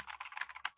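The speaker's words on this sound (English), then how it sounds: "we heard the typing" A rapid burst of keystrokes on a computer keyboard, with quick, uneven clicking heard alone and fairly faint for under a second.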